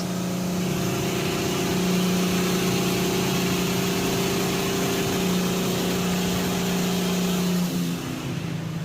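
A fully rebuilt car engine runs close by with a steady, loud hum and a mild rise in revs, droning continuously with no talking.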